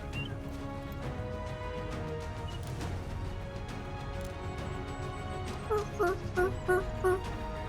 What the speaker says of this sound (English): Big old gobbler coming in.